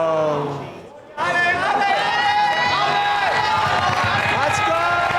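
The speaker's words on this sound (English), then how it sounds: "The crowd is cheering on for one more final attempt here." A large crowd at a timed competition erupts into loud, sustained cheering and shouting after a brief lull, with a voice talking over the din.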